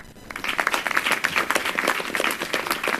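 A crowd claps in a burst of applause, dense and steady for a few seconds, fairly close.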